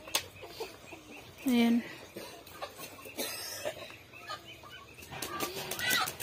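Chickens clucking and calling nearby on a rural farm, with short bursts of fowl vocalization, a brief loud squawk early on, and wing flapping scattered through, while a person speaks briefly over outdoor ambience.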